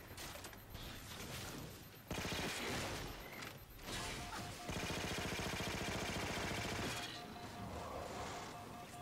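The Boltshot weapon fires in the video game Halo 4. Dense volleys of shots and mechanical clatter come in loud, sustained bursts separated by brief gaps, with game noise continuing underneath.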